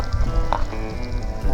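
Chili sizzles while frying in a pan at a lakeside camp, giving a close, continuous crackle and hiss with brief spits and pops throughout.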